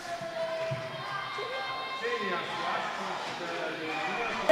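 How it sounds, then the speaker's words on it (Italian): Fans cheering and chanting at an under-16 handball semifinal between HC Milano and Scomed Bomporto, a sustained indoor crowd roar with sung tones beneath a commentator's talk. "E intanto il tifo si scatena"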